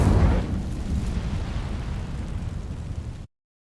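Incendio fire spell igniting dry vines in Hogwarts Legacy, a sudden whooshing burst followed by a steady roaring crackle of flames that cuts off abruptly.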